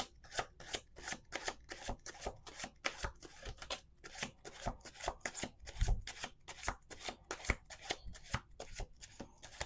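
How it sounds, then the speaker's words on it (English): Tarot cards being shuffled by hand, a rapid run of crisp riffling bursts repeating at a steady rhythm, close and fairly quiet, with no talking. "Let's do 2 more shuffles."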